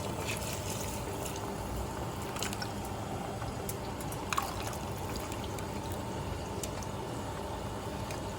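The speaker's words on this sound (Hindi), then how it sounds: "पानी बॉयल हो गया, और इसमें ये राइस डालें।" A steady wash of rice pouring into boiling water fills the clip, close and continuous, with small clinks and splashes and no voices.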